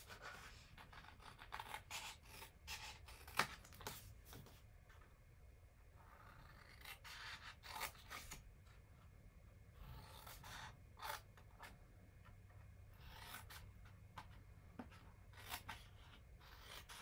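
Scissors snip through scrapbooking paper in a series of quiet, crisp cuts and rustles, close but faint, with no voices.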